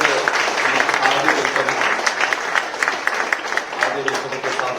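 An audience at a book release claps in sustained applause, a dense, loud, steady patter of many hands, close and continuous, with some voices mixed in.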